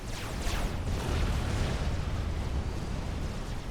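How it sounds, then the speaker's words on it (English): A commander unit blows up in the real-time strategy game Supreme Commander, a dense, sustained roar of explosive rumble and crackling debris that stays loud and steady throughout, with no voices. "Do we see ACU explosion at the end?"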